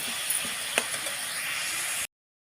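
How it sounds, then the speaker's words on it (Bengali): Spice paste with Kashmiri chilli powder fries in a pan for a chatpata diet chicken, giving a steady close hiss with a few light clinks from stirring. The sizzle runs for about two seconds, then cuts off. "দিয়ে এবার মশলাটা ভালো করে কষবো।"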